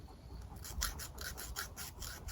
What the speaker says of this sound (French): J'ai acheté des limes à ongles. Parce que j'aime bien les grosses limes à ongles